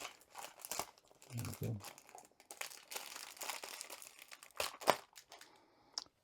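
Stapled Diamond Art Club craft kit packaging being torn open, quiet crinkling and ripping of plastic in short bursts, with a brief spoken word partway through.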